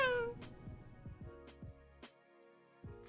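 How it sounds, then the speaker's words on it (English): A cat meows from a stump in rainy woods as a tabletop game sound effect: one clear, fairly loud meow at the start, then faint, scattered knocks and rustles. "I think it's a cat, man."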